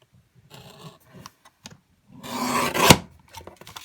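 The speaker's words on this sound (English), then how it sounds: "And I just love this little mini trimmer." A mini paper trimmer slices a strip off cardstock for a handmade card, a brief rasping slide of the blade that ends in a crisp snap, preceded by small handling taps, close and quiet.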